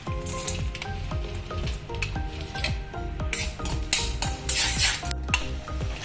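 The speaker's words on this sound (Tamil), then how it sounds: "இப்போ தேங்காய் வந்து நல்லா பொரிஞ்சிருச்சு" Steady loud sizzling of coconut frying in hot ghee, with occasional stirring and the clink of a spoon against the pan.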